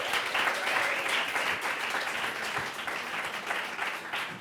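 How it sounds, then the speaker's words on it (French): Steady audience applause, fairly distant and moderate in level, continuous clapping from a crowd at a Brussels evening event, with no voices on top. "On peut les applaudir, évidemment."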